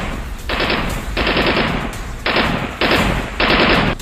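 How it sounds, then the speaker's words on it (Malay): Rifle gunfire sound effect: loud, rapid automatic bursts in four or five separate volleys, each a dense rattling roar with short gaps between. "Tun Mamat melepaskan tembakan"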